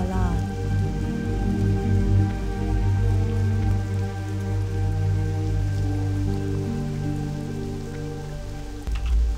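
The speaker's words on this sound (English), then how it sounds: "Some nice, rainy, dark shore ambience." Steady rain ambience on the dark shore of World of Warcraft Classic, a continuous even patter of falling rain with a low sustained bed of game tones running throughout, calm and unbroken.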